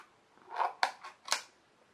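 A frosted, semi-opaque plastic skincare tub with a black lid being twisted and unsealed: a few short, close plastic scrapes, rustles and clicks, with no voice.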